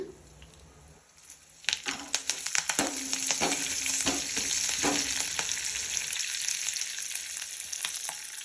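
Curry leaves hit hot oil in a frying pan while ivy gourd chutney is made, with a sudden crackling burst followed by a steady, close, loud sizzle and occasional stirring clatter.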